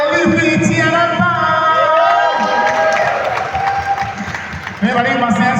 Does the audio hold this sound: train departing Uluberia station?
no